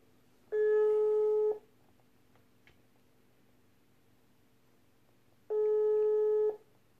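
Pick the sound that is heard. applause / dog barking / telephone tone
telephone tone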